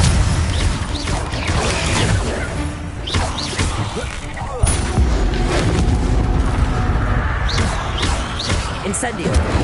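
A spell being cast during combat in the Hogwarts video game, a burst of dense booming, crashing impacts with thuds and cracks repeating throughout amid loud game noise, with a voice speaking over it.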